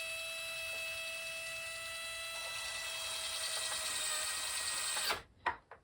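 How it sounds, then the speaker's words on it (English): A small power drill bores holes in a 1:84 Artesania Latina Santisima Trinidad model ship, giving a steady, close, high whine that cuts off abruptly near the end, followed by a few brief clicks. "I found with this drill, it wants to stop"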